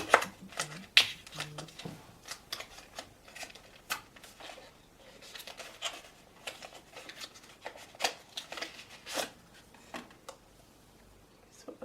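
Kosas setting powder packaging being opened by hand, with close, soft crinkling, rustling and small taps coming in uneven bursts.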